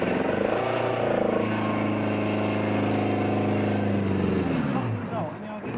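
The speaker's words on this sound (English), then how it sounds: "His engine sounds sick" A 1976 rally car's sick-sounding engine drones loud and close, a dense, rough tone that holds steady, then shifts and drops near the end.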